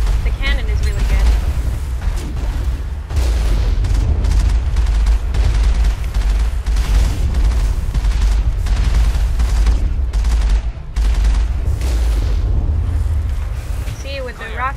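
Cannon and rocket blasts hit Geth enemies in the video game Mass Effect, a rapid string of heavy booms and bursts that runs throughout, with a voice talking over them.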